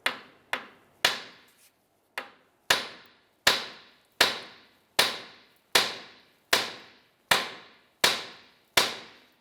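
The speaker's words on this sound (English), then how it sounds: "go ahead and use a hammer, and you're going to hit the knuckle right here" A hammer strikes the steering knuckle of a 1999–2004 Jeep Grand Cherokee to free the outer tie rod, about fourteen sharp, ringing metallic blows at a steady pace, close and loud.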